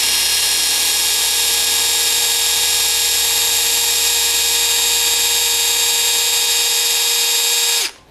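A drill with an ONISHI drill bit runs at a steady high-pitched whine, loud and close, holding an even tone before spinning down abruptly at the end.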